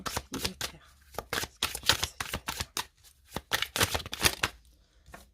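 Oracle cards are shuffled by hand in quick, crisp bursts of riffling and slapping, with short pauses between bursts, close and fairly soft.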